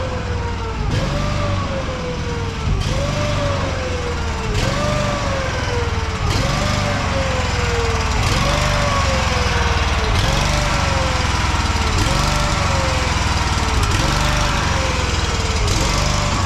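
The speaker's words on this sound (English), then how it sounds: "Dad has the skid loader right there." A skid loader engine runs loud and close without a break, its pitch sweeping down over and over in a repeating cycle of roughly two seconds.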